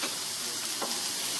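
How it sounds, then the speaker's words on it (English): Steady, dense sizzling of garlic in a hot sauté pan, a continuous close hiss of frying with faint stirring ripples and no talking. "You see how it's sizzling?"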